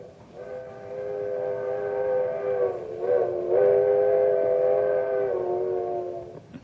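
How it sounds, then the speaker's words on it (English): An old-fashioned whistle from a coal-burning steam locomotive sounds one long, steady, mournful chord, loud and sustained for about six seconds with a slight waver in the middle, heard alone. "It's a locomotive whistle, the old-fashioned kind that was part of a coal-burning steam engine."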